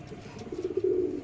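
Pigeon cooing from a Matraj pigeon held in hand, a low soft throaty coo swelling through the second half, close and moderately quiet with no talk.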